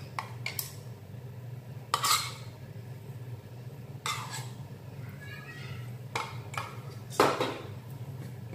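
A spoon scrapes and knocks in a pan as cheese is stirred into a thick kanafeh mixture, giving several short, sharp metallic clinks spaced a second or two apart over a low steady background.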